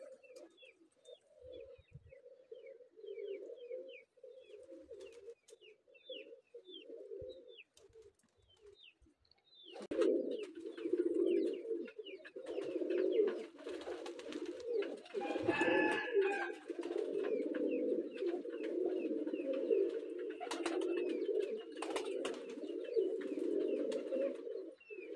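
Pigeons coo steadily in a loft setup, a soft continuous burbling that grows louder and fuller halfway through as more birds join, with occasional chirps and wing flutters and no talking.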